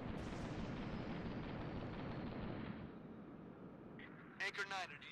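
Gunfire and heavy blasts in the video game Halo Reach, a dense continuous roar of shooting and explosions that thins out midway, followed by a short burst of game sound effects near the end.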